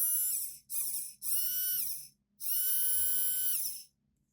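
Small 12V electric motor powered from a car cigarette lighter socket, whirring at a high pitch in four close bursts that start and stop sharply with brief pauses between, with no talking.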